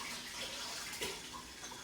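Hands are washed under a running kitchen tap, a steady rush of water with soft splashing that stays at a constant level throughout, heard close up with no speech.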